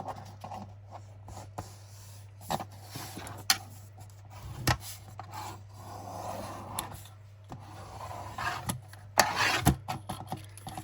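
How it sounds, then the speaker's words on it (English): Paper rubbed and burnished down onto a junk journal page, with intermittent soft scraping and rubbing strokes and a few sharp taps, close and quiet against a low steady hum. "make sure that's proper burnished down"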